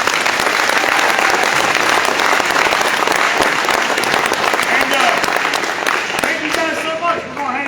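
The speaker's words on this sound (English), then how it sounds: "So give yourselves a round of applause." Audience at a senior day event gives sustained, dense applause, loud and close, continuing for several seconds and tapering slightly at the end.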